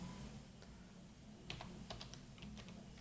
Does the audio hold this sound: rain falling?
no